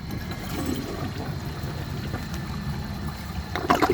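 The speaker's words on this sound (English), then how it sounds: "I'm going to give it a courtesy flush and see if it flushes right." A 2012 Glacier Bay all-in-one toilet flushes, water rushing and gurgling steadily at close range, ending with a louder splashing surge.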